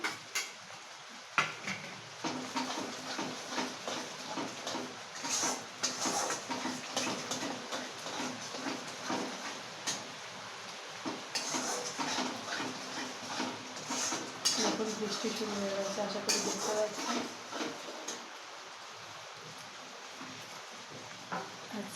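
Soybean curry with cashews being stirred in a cooking pot: steady clinks and scrapes of a spoon against metal, close and fairly busy throughout, with faint background voices at times.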